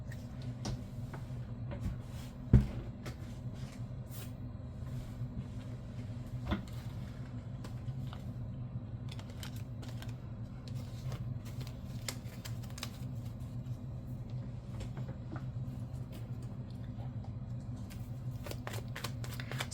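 Tarot cards being shuffled, heard as faint, scattered papery clicks and riffles over a low background hum, with one louder snap early on.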